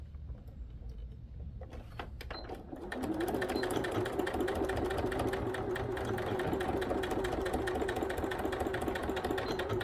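A sewing machine stitches a faux leather iPad bag. After a couple of seconds of quiet clicking it starts a steady, continuous whirring run at close range.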